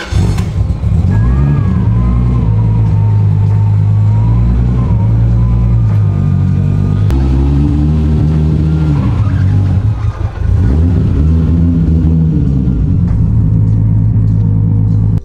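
A Toyota Supra fitted with 2200cc injectors and running 20 pounds of boost roars loud and close throughout, its engine rumbling and rising in pitch as it accelerates hard, with brief tire squeals over the continuous drone.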